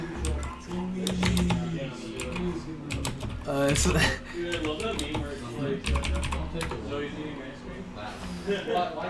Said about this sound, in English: What are you typing right now?